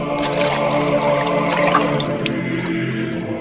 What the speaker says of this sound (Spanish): llenen de agua las tinajas.